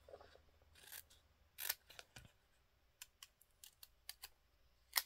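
Scissors snip out paper butterfly and bug pictures, with soft, close, irregular blade clicks and a few sharper cuts spaced across a quiet room, no talking.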